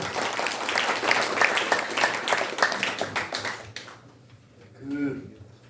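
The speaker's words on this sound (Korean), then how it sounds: "네, 박수 소리가 점차 작아집니다." Applause from an audience at a Korean commemorative ceremony dies away after a few seconds of steady clapping, leaving near quiet, and then a voice speaks briefly.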